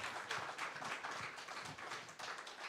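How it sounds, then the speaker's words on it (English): A church congregation at a Sunday gathering claps in a sustained round of applause, a dense, steady patter of many hands that carries on without a break and with no talk over it. "Let's give her another hand and round of applause there"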